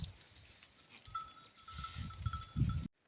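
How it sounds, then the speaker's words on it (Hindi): A goat calls from nearby on a rocky hillside, with a few short, low bleating bursts that grow louder toward the end, and a steady faint whistle-like tone sits underneath. "बुला के इधर आ गई हमारी बकरी"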